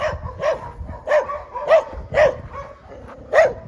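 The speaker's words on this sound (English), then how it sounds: "And even the dog is meeting me here." A dog met at a dead end while exploring Dubovka in the Volgograd region of Russia barks repeatedly outdoors, six sharp close barks spaced in an uneven rhythm with no talking.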